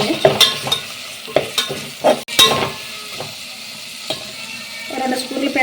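Curd is stirred into a masala frying with coriander powder and ginger paste for an aloo kurma, giving close, uneven scrapes and stirs over a low sizzle, with a few sharper strokes and no talk.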